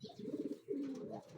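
Racing pigeons coo in low, repeated throaty pulses, with a brief pause midway before a longer rolling coo, close by and with no talking.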